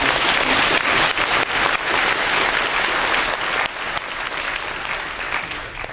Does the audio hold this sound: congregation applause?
yes